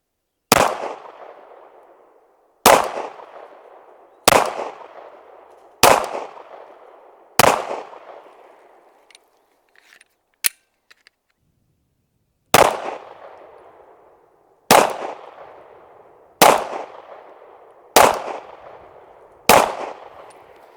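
Single gunshots from a Derya Arms DY9Z firearm, loud sharp cracks fired one at a time at roughly two-second intervals with a short pause midway, each followed by a brief ringing decay.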